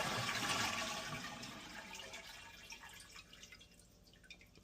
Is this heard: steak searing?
no